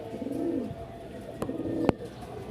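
A single male pigeon coos softly and close by, two low murmuring coos over faint background noise.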